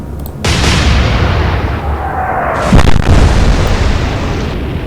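A heavy naval gun salvo from a warship in the video game Atlantic Fleet, a loud boom that settles into a long rumbling roar with a second sharp blast partway through, no talking.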